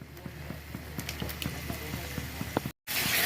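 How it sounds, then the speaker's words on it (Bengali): Turmeric and tomato are stirred in a cooking pan for chicken curry, giving a steady run of quick, rhythmic scraping clicks close by, with a brief dropout near the end. "কিন্তু ভালো করে নাড়িয়ে নিচ্ছে।"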